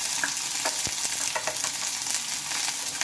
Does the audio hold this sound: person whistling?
no